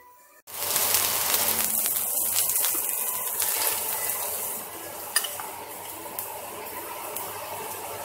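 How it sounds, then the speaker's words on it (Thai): Chili, onion, garlic and minced pork stir-fried for northern Thai larb: a steady, close sizzle with scraping stir strokes and occasional clinks of the utensil against the pan, running continuously without talk. "พริกแล้วก็หัวหอมลงไปผัดด้วยผัดก่อนให้กลิ่นมันหอม"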